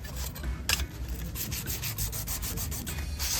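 Sandpaper rubs steadily back and forth over stainless steel car trim, a close, continuous rasping scrape with regular strokes and no talking.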